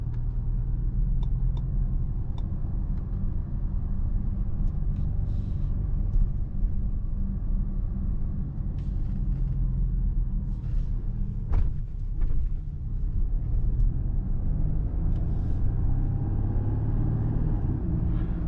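A 2024 Mercedes GLC Coupe engine hums steadily from inside the cabin in sport mode at night, a low continuous drone with faint clicks and rattles, no clear surge of acceleration.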